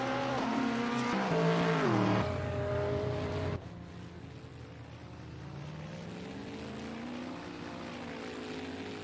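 Several race car engines, including an Audi, a Bentley and a Ferrari, roar loudly in a racing video game, their pitch sliding down and back up in overlapping tones before the sound abruptly drops to a quieter, steady engine drone.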